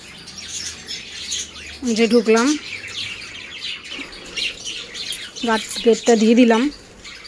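Cockatiels and budgerigars in an aviary give sharp chirps and tweets, with two louder bursts of calls near the microphone, while a person talks as they enter through the cage gate.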